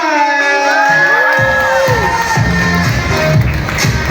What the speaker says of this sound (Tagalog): Palitin naman ng isang malakas sa palakpakan na may kasamang hiyawan!